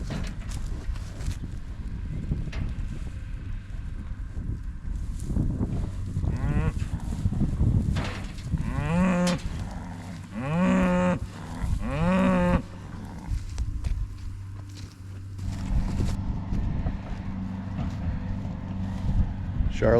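Several drawn-out cow moos rise and fall amid outdoor farm noise around alfalfa bales, with low rumbling and rustling in the background.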